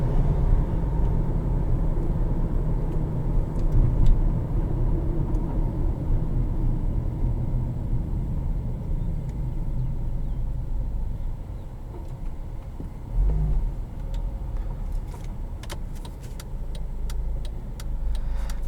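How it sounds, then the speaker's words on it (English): Turbocharged engine of a 2011 Acura RDX heard from inside while driving, a continuous loud rumble with road noise and a brief surge partway through, plus faint clicks near the end, with no talking. "That turbo is so loud."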